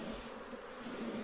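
Dense, steady buzzing of a bee swarm pouring out of a hive, a continuous close hum with no talk over it.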